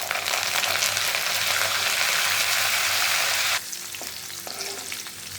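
Tempering of cumin, finely chopped garlic, chillies and neem leaves frying in a pan for ambadi bhaji, a loud steady sizzle that drops abruptly to a quieter simmer with faint clinks, close and without talk.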